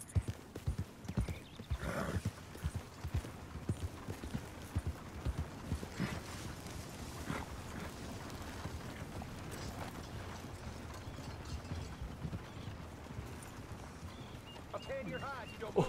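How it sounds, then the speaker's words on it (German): Horse hooves clatter in uneven bursts during Red Dead Redemption 2 gameplay as a rider crashes into a coach, with knocks and mechanical rattles mixed into a busy scene and a voice talking over it. "da ist auch mit seinem Pferd gerade volle Bude in die Kutsche geritten"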